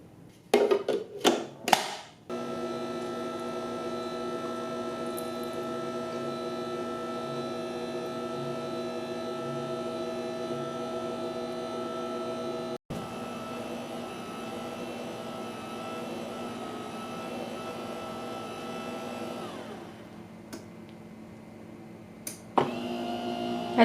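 Philips Avance pasta maker running steadily as it mixes dough and extrudes linguine, a constant motor whine with a brief interruption midway, a few clicks at the start and a knock near the end.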